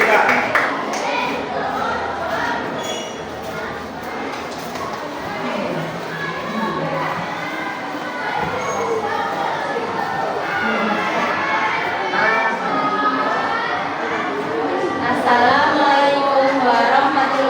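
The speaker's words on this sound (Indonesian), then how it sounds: "Yang lain tepuk tangan untuk kelompok 7." Classroom applause from classmates for a student group about to present, a lively mix of clapping, cheering and children's shouting and chatter that continues loudly throughout.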